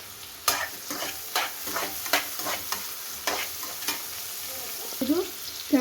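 Onions fry in hot oil in a pan for a chicken sukka, a steady sizzle broken by repeated sharp scraping stirs at a near, even rhythm.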